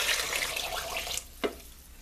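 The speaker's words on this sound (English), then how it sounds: "Now all we have to do is add all the stock" Vegetable stock being poured into a soup pot of leftover-turkey vegetable cream soup, a steady watery pour with a brief splash near the end, close and moderately loud, no talking.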